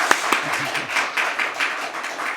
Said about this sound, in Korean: 다시 한번 크게 박수 한번 해주십시오